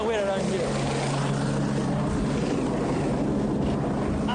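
A motorboat engine drones steadily at close range, a continuous low hum with a brief voice near the start.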